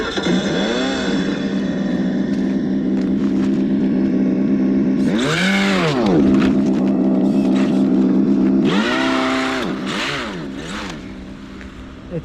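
A Tamiya RC Lancia Delta Integrale rally car on a TT-02 chassis whines as its electric motor revs in rising and falling bursts while the wheels spin on ice, with loud sweeping surges near the middle and end.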